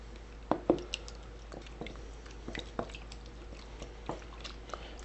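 Flour being stirred into no-knead bread dough, with faint, soft squishing and sticky slaps from the spoon coming in scattered strokes, close by and quiet.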